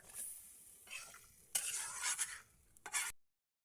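Liver and potatoes sautéed in a pan over a wood-fired stove, with a steady sizzle and several sharp scraping stirs of a utensil against the pot, close and moderately loud, ending abruptly.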